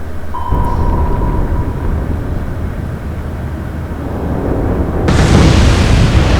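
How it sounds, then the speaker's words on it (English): Torpedo strikes exploding against a ship in the naval war game Atlantic Fleet: a loud, sustained rumbling blast with a sharper burst near the end, no voices. "we got smacked with 2 torpedoes as some sort of vengeance"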